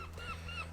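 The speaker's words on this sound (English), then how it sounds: "Noisy seagull." A seagull calls on the coast at Durdle Door at sunrise with a few quick, harsh honking cries over faint background noise.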